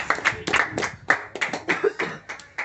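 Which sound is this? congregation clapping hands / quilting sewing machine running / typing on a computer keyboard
congregation clapping hands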